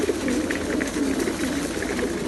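Racing pigeons being fed in a loft in Kırşehir, soft overlapping cooing and murmuring from a group of birds close by, continuous throughout with no speech.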